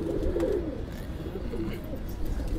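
Rampuri breeder pigeons coo softly nearby, a low rolling murmur that runs under steady background noise for a couple of seconds.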